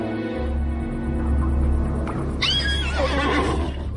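Horses neigh and whinny in a stable setting, a loud close whinny rising sharply midway and trailing off over a steady low rumble, with no talking.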